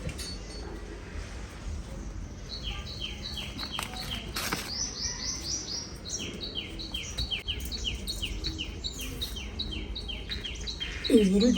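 A colourful bird at a plant nursery chirps in repeated quick tweets and trills, fairly faint, with other calls and light background noise.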